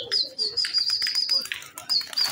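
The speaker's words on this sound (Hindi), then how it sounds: "ये देखें जी माशाल्लाह उड़ा दिए कबूतर" Released pigeons burst into flight at a pigeon farm, bursts of flapping wings mixed with thin chirps and whistles, close and lively, ending in a final flurry.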